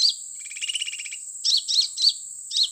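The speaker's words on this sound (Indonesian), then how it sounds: "kita mendapat burung sulingan ya. Sulingan kolibri." Sulingan bird calls, a bird caught with a hummingbird call lure: a fast trilling twitter up front, then four separate bright chirps spaced out evenly, high-pitched, clear and close against a silent background.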